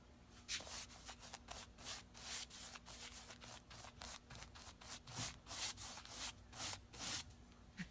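A paintbrush scrubs paint onto wood in brisk back-and-forth strokes, a soft rhythmic swishing repeated about three times a second, faint and close with no talking.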